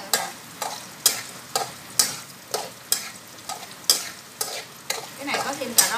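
A steady sizzle of Chinese sausage frying in a pan over high heat, punctuated by regular scraping strokes of a spatula stirring, roughly two per second.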